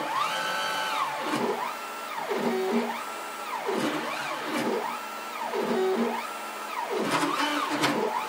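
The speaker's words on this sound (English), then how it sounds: "Just running some tool paths right now, and it's going to do some pockets." Newly wired CNC router cutting pockets along tool paths, its stepper motors whining up and down in repeated rising and falling sweeps, steady and close with no talk.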